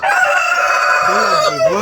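Rooster crowing loudly and close by, a sustained rising-then-falling call over steady clucking from a flock of backyard chickens.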